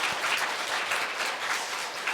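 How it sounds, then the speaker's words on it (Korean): A church congregation applauds its choir after an Easter cantata, a dense, even burst of clapping filling the room throughout. "우리 찬양대 격려하면서 우리 박수로 올려드리겠습니다"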